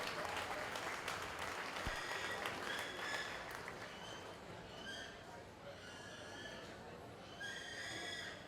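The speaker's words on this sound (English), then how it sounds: "If you would give them a big round of applause." Audience applause at a 4-H and FFA market steer show, a steady broad clapping that fills the whole stretch, with scattered cattle or livestock sounds and some talk mixed in.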